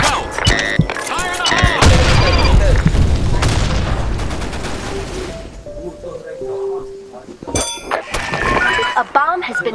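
Grenade blasts and gunfire in the BlackShot online shooter during a clan war. Sharp booms and clattering shots burst close and loud in the first few seconds, with players shouting over them, followed by scattered shots and game voice cues.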